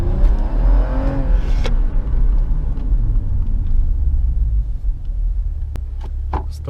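A white tuned Toyota Mark X rumbles loudly and revs, a deep close engine roar with a rising whir before settling into a steady low idle.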